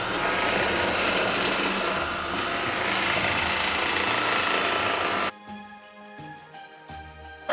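A kitchen stand mixer turning at its lowest speed to blend reindeer cupcake batter, a steady loud whirring with a mechanical ratchety texture that cuts out abruptly partway through, leaving quieter scattered clicks and handling sounds.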